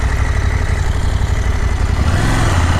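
A KTM 790R adventure motorcycle engine pulls hard under throttle, a loud, close, continuous engine roar with a rising note near the end and no talking.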